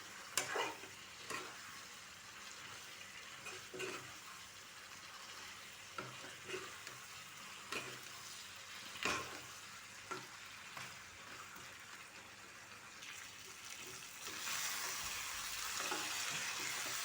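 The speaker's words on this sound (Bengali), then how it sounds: "দেখিছেনে কি ধুনীয়াকৈ ভাজা হৈ গৈছে।" Goat meat cooked with yogurt and Kashmiri chilli fries in a pan, giving a steady close sizzle broken by repeated scraping stir strokes, and the frying grows louder and denser toward the end.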